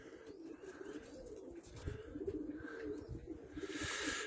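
Soft, low pigeon cooing repeats over a faint background hum, the throaty calls rising and falling near by.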